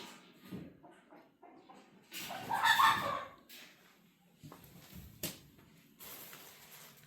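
Flock of about forty chickens at a mobile coop, clucking and squawking in bursts with a louder flurry of agitated calls midway, fairly near and with no talk.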